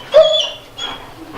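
A police K9 dog gives a short, close whimper, a single high whine that fades, followed by a softer second whine.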